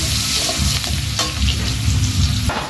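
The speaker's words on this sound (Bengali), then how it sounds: "আর দিয়ে দেবো পেঁয়াজ কুচি দিয়ে ভেজে নিতে হবে।" Chopped onions and five-spice seeds fry in hot oil while being stirred, giving a continuous loud sizzle with scraping spoon strokes and a brief crackling burst near the end, without any voices.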